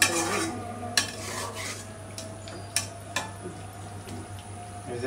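Beef being stirred and sautéed in a pot, with a steady low scraping and rubbing of the spoon against the metal and a few sharp clinks, close up and with no talking.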